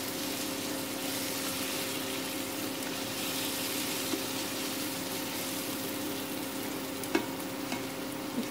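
Ginger garlic paste sizzles in a pan for karela chutney, a low, even frying hiss that holds steady throughout with a couple of faint ticks, close by and without any talking.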